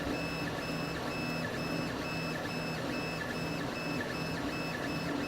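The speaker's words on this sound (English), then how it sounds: "I am printing with PLA filament at 200 degrees." Solidoodle 3D printer running a PLA filament print at 200 degrees, giving a quiet, steady motor whir with repeating high stepper tones that rise and fall in a regular pattern, no voices.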